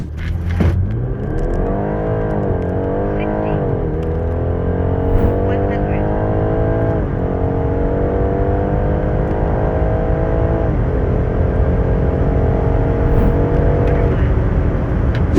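A tuned Stage 1.5 BMW X3 xDrive30e G01 with 430 hp and 690 Nm accelerates hard from 0 to 100 km/h, engine pitch climbing and dropping back at three gear changes, loud and close inside the cabin.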